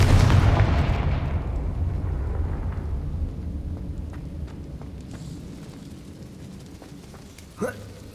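Confringo fire spell going off in Hogwarts Legacy, a heavy booming blast at the start that decays into a long rumbling tail and fades to quiet, followed by a short sharp hit near the end.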